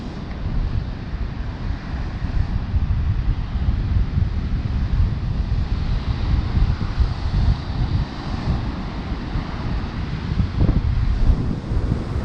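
Heavy storm surf and strong wind during Storm Gloria in January 2020 roar continuously, a dense, loud rush of crashing waves with wind buffeting the microphone throughout.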